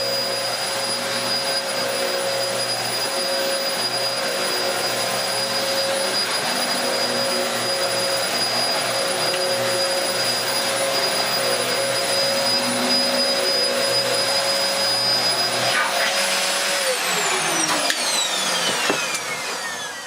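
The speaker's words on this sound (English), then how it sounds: "we'll give it a bit of a test vacuum" A Dyson DC04 upright vacuum cleaner, refurbished, runs with a steady, loud whining drone that winds down near the end.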